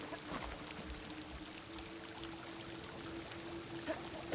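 Water pouring into a flooded village in the video game Horizon Forbidden West, a continuous rushing stream with a steady low hum beneath it, even and moderately loud throughout.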